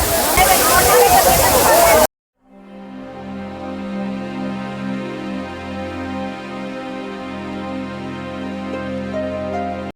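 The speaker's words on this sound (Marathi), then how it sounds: "या उंचावरून हे पाणी पडतं बघा तुम्ही" Loud rushing water of Bee Fall waterfall in Pachmarhi pours for about two seconds, then cuts to silence before a steady droning tonal sound takes over.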